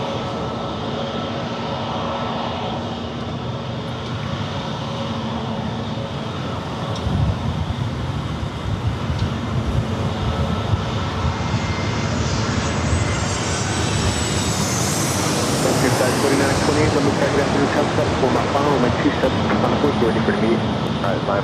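A Southwest Airlines jet at San Diego airport rumbles at moderate distance, its engine noise swelling into a louder roar in the second half, while a voice talks over it.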